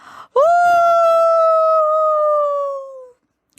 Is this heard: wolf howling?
yes